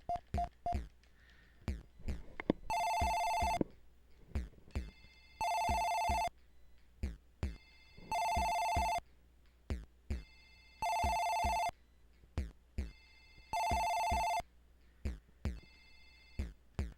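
A telephone rings in the video game Dead of the Brain. Five evenly spaced electronic ring bursts sound over a steady ticking pulse, fairly clear and with nobody talking.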